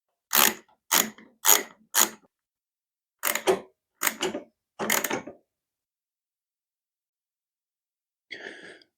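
Sharp, close ratcheting bursts come in quick groups of short clicks with silent gaps between them as long bolts are tightened on a snowblower carburetor, and one softer mechanical click follows after a pause.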